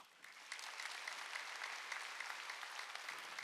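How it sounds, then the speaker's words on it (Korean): Church congregation applauding during a Wednesday worship service, a steady dense clapping that swells in after a quiet start and holds evenly, close and full, with no voices on top. "박수 쳐주라고."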